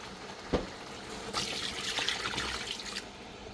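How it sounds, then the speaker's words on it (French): Water poured into a cooking pot, a close splash at first followed by a steady, gurgling stream of liquid filling the pot for a few seconds. "On va ajouter un peu d'eau à l'intérieur"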